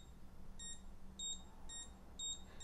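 Graupner MZ-32 RC transmitter sounding its throttle alert at the 50% mark: four short, evenly spaced electronic beeps, close and clear over a low steady hum, with no talking.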